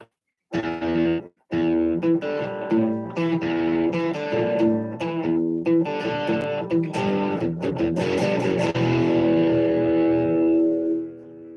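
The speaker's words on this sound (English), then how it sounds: "Let's get some less noisy distortion going." An electric guitar runs through a distortion effect, playing loud, sustained chords and riffs with a short gap near the start before ringing out and fading at the end.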